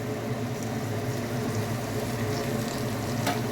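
Bottle gourd pieces fry in a pan for an Anapakaya curry, giving a steady, close sizzle that runs unbroken throughout, with a few faint clicks and scrapes from stirring.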